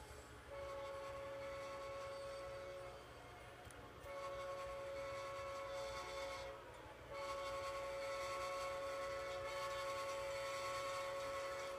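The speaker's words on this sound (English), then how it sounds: "we've got the Canadian Pacific Gold Train passenger set coming in" Canadian Pacific passenger train from the Gold Train set arriving in the Trainz 2012 rail simulator, with a steady rumbling engine drone and a sustained horn tone sounding in long blasts, loud and close throughout.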